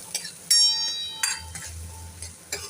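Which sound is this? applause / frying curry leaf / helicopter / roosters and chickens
frying curry leaf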